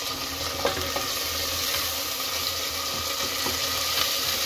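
Chopped tomato, rajma and a little ginger-garlic paste are stirred in a hot frying pan, giving a soft, continuous sizzle broken by occasional scrapes of the spoon. Faint running water is heard in the background.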